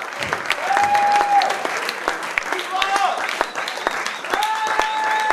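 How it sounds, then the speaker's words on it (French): A comedy-club crowd claps and makes noise as the comedian Kebab comes on stage. The applause is loud and close, with whistles rising over it and voices calling out. "Un maximum de bruit pour Kebab, s'il vous plaît"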